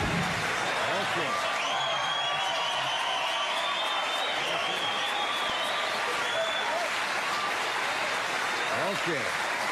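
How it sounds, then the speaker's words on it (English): Sustained studio audience applause on a late-night talk show rolls on loudly for nearly ten seconds, with faint voices mixed in. "I'm humbled by that applause."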